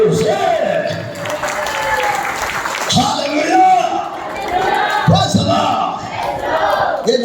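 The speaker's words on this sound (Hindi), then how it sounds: "जोर से ताली बजाओ, जोर से।" Congregation claps loudly during a Hindi-language sermon, bursts of crowd clapping and cheering mixed with shouts and the preacher's voice over it.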